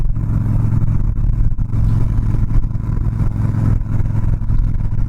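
Harley-Davidson Softail Slim motorcycle with a 103ci engine rumbling steadily, a loud, close, continuous low throb with slight pulsing unevenness and no break in the sound.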